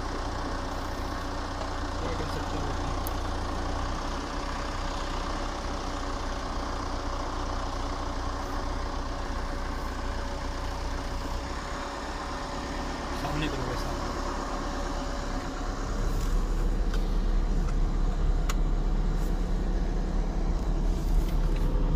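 A car cruises along a road at night, its engine humming steadily with a low continuous rumble and road noise, swelling slightly toward the end while someone talks over it.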